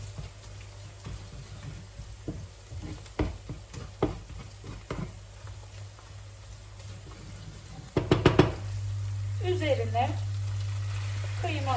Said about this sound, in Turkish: Salçanın hafif kokusu çıkana kadar kavuracağım.